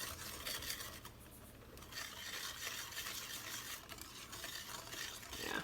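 Cookie dough for Easter cookies is mixed with wet ingredients, making a continuous soft scraping and stirring sound, quiet and close, with no voices.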